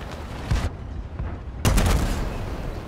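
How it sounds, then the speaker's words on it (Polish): Two loud, close gunshots in a video game, about a second apart, each with a sharp crack and a ringing tail, and no voices. "Ale podoba mi się dźwięk tego wystrzału."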